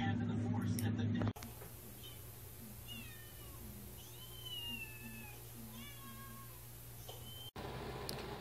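A cat meows several times in short, rising calls close by, over a low steady hum, with a brief noisy burst before and after.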